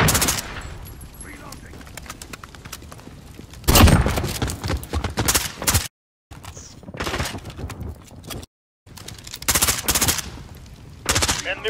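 PKM machine gun fire in a survival video game, loud rapid bursts of automatic shots broken by short pauses, with a heavy impact midway and voices talking in between.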